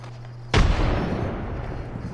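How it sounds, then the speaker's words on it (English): A frag grenade explodes in the video game Apex Legends: a single sudden, close boom followed by a rumbling decay, with no talk. "Frag out!"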